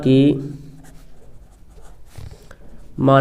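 Pen writing on paper during a Hindi math lesson, a soft scratchy scribble between stretches of a man's speech at the start and end.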